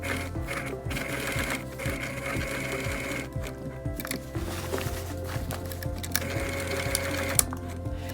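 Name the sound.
sewing machine stitching a fabric patch over a tear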